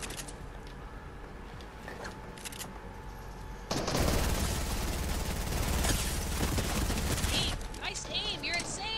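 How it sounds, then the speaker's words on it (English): Fortnite gunfire breaks out as a dense, loud burst of rapid shots lasting several seconds, after quieter scattered pops, with people talking during the game. "Why are you getting shot at?"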